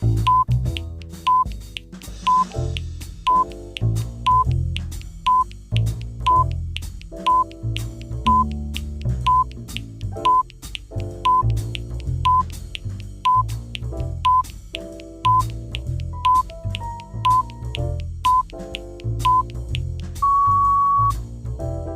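A phone rings with an incoming call from the wife, its repeating electronic tone pulsing at a steady rhythm over a continuous musical backing, clear and fairly loud throughout.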